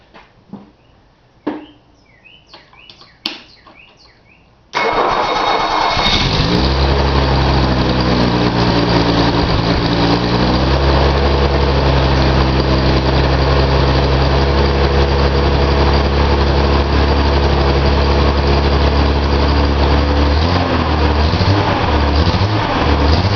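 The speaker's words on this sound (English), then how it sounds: "Let's see if the engine starts up." A Datsun 280Z engine cranks with a few sharp clicks and then catches and starts. It settles into a loud, steady, close idle that runs on unbroken.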